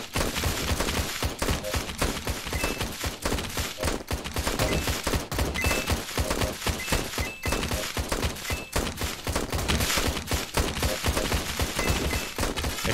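Rapid, relentless gunfire from the mobile horde-survivor tower-defense game Road Defense: Outsiders, dense bursts of shots repeating nonstop at steady loudness throughout, with no talking over it.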